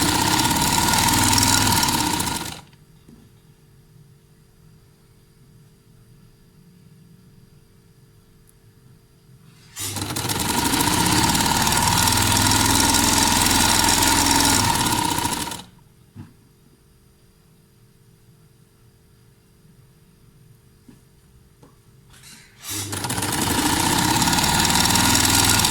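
Electric sewing machine stitching a shirt sleeve along a marked seam, running in three loud sustained bursts of several seconds each, separated by quiet pauses, with no talk.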